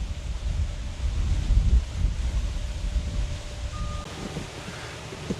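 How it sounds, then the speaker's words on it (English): Strong wind gusting outdoors, a broad steady low roar with buffeting rumble against the microphone that eases slightly toward the end, with no voices. "The wind is just really picking up."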